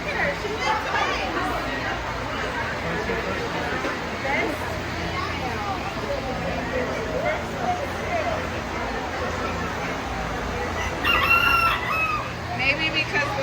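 A rooster crows repeatedly amid clucking fowl in a poultry barn at a county May fair, with crowd chatter and babble running throughout and a louder crow near the end.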